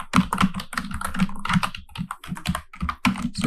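Computer keyboard keys pressed one after another while coding a snake game in Python with PyGame, a close, steady run of clicky taps with short pauses between them.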